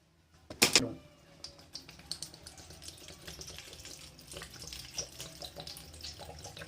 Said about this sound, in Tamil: போட்ட உடனே சட்டார்னு தண்ணி கொட்டிடும்